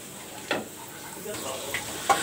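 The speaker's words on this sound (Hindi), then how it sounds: "अब हम जो है इसको मिक्स करके 3 से 4 मिनट के लिए पकाएंगे" Carrots and capsicum sizzle and fry in a pan while being stirred, with a steady hiss broken by a few scraping stirs, fairly close and moderately loud.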